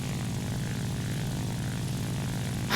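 Steady, loud drone of a La-5 propeller fighter engine in War Thunder, a constant close rumble with no talking and a burst of brighter noise right at the end.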